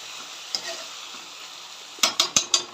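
Masala bhindi, okra in spice paste, sizzles gently in a pan, then a spoon stirs and scrapes in four quick close strokes near the end, with no voices.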